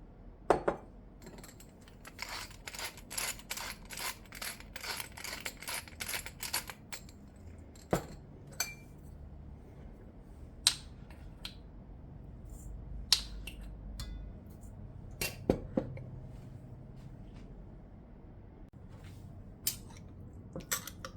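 Beet relish with horseradish, sugar, lemon juice and salt being stirred in a bowl, quick rhythmic clinks and scrapes of a utensil at first, then sparse, faint taps, close and quiet with no talking.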